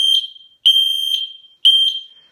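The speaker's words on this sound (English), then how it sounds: "when you push the button in the middle, the alarm will sound" A household smoke alarm sounds during a push-button battery test: three loud, piercing electronic beeps in a regular pattern, close and alone.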